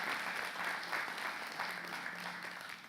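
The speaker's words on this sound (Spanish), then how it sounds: "denle un aplauso a Dios por los músicos de la iglesia" A church congregation applauding its musicians during a service, a dense, steady clapping from a crowd indoors that holds strong then eases slightly at the end.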